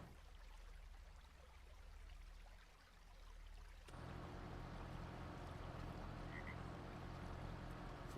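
Creek ambience in Farming Simulator 25 with flowing water and frog croaks, a soft steady wash that swells louder halfway through into a fuller, brighter rush, with no talk.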